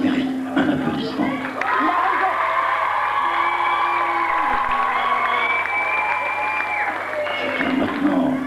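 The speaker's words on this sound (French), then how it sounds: "ça mérite un applaudissement" Crowd applause with whoops and cheering at an evening truckers' parade gathering, loud and sustained throughout, swelling near the end.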